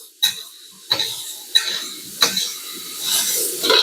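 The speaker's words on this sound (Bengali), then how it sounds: "এখন বেগুনগুলো এর মধ্যে দিয়ে নাড়তে থাকলে" Eggplant pieces with asafoetida are stirred in a pan, giving four sharp, evenly spaced utensil scrapes and knocks against the metal, followed by a brief rustling shuffle and soft sizzle.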